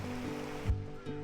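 Clear mountain valley stream at Eobi Valley below Eobisan, Gapyeong, rushing steadily, a soft, even wash of flowing water with no voices.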